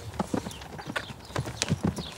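Rhythmic hoofbeats of a horse cantering in the Camargue in France, with distinct close clip-clop strikes in quick triple groupings and a faint snort or whinny mixed in.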